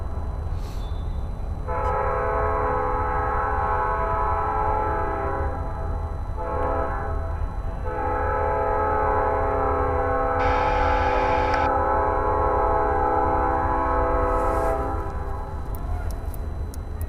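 A train horn sounds in long sustained blasts with short breaks, over a steady rumble of rolling wheels; the horn is loud and fairly near.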